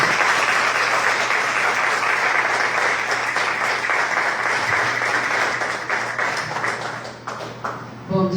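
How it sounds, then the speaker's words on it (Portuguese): Sustained, loud applause from a church congregation at a morning prophetic conference session, a dense wash of clapping that thins out toward the end as a few voices and a brief tone emerge. "salva de palmas para Jesus"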